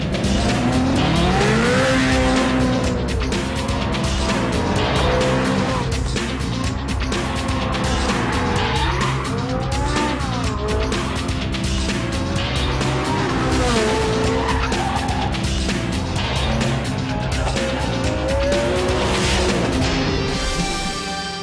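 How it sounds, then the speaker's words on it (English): Ferrari race cars, including a Formula 1 car, a 599 XX and a 430 GT2, circuit the track at Valencia with loud, continuous engine wail, pitch sweeping up and down through gear changes, and repeated tire squeal as they corner. "girerà una Formula 1 con Luca Badoer, una 599 XX con Maurizio Mediani"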